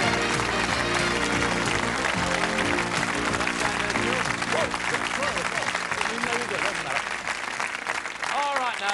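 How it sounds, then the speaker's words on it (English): A game-show studio audience applauds, steady dense clapping through the whole stretch with voices and cheering mixed in underneath. "Let's give them all a nice round of applause."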